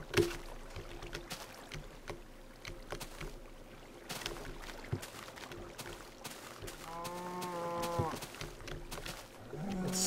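Several low, drawn-out moos from Minecraft cows sound over a busy background of clatter and ambient noise, one clearer call rising near the end.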